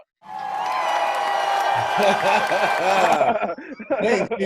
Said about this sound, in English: Los, cue that fucking applause